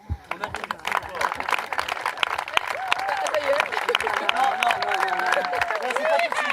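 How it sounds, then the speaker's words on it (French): Wedding guests clap at the ceremony, scattered claps at first building into fuller applause, with voices and speech heard throughout. "On applaudit très fort."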